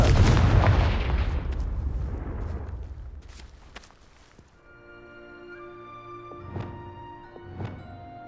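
A Confringo fire spell in Hogwarts Legacy lands as a loud, rumbling explosive blast that decays over several seconds amid crackling debris, followed by quieter tonal game chimes and two soft thuds.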